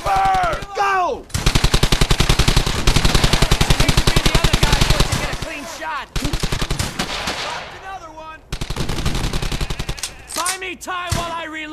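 Sustained automatic gunfire in the WWII shooter Brothers in Arms: Hell's Highway, loud and close, with long rapid bursts broken by short gaps and brief voiced callouts between them.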